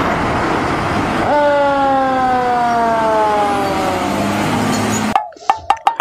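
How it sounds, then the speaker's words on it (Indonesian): Fire truck siren wailing loudly nearby, a sweeping tone gliding down and rising again over several seconds amid traffic noise, cut off abruptly near the end and followed by a few sharp knocks. "di sana ada mobil truk pemadam kebakaran."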